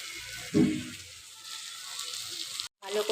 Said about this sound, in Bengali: বেগুনগুলো দিয়ে ভালো করে কষিয়ে নিতে হবে মশলাটা